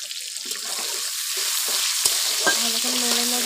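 Chicken with chopped onion and tomato sizzles in a pan while being stirred, a steady frying hiss broken by a few sharp spoon knocks and scrapes, no voices.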